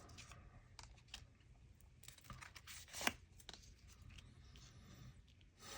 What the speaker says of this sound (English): I'm gonna pull out probably 4 cards.